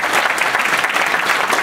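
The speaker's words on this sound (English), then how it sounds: "Everyone, let's give a round of applause for us." Short burst of audience applause from a crowd at a New York technology meetup, loud and dense with steady clapping throughout, no talk over it.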